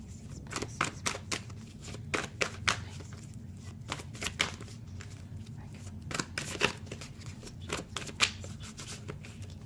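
Tarot cards being shuffled by hand, a steady run of quick, crisp riffling snaps and slides, close and repeated throughout, with a voice talking at times.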